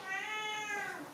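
A house cat gives one drawn-out meow, close and fairly clear, rising and then falling over about a second, with no speech around it.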